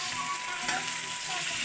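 Chicken frying in oil in a pan, a dense, even hiss of sizzling with faint stirring, steady and close throughout a short stretch without speech.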